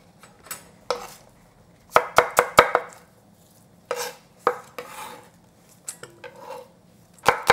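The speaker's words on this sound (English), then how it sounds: "Just slice. Slice diagonally, thin." A knife slices green onion thin on a cutting board, sounding as sharp, close chops that come singly and in quick clusters of three or four, with soft pauses between.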